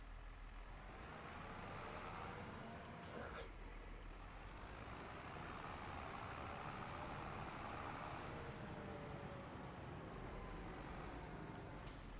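A farm truck or tractor in Farming Simulator rolls into a shed with a steady, loud engine rumble, joined by a brief air-brake hiss and faint reversing beeps partway through.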